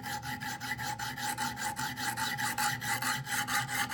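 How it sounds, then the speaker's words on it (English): A knife blade being scrubbed on a 200 grit sharpening stone in a Wicked Edge guided sharpener, a close, rhythmic rasping that repeats in quick back-and-forth strokes, steady and fairly quiet, with no voices. "And I just do some scrubbing with the 200 grit stone"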